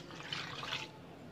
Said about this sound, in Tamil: தண்ணீர் ஊற்றி நான் மிக்ஸ் பண்ணிடுறேன்.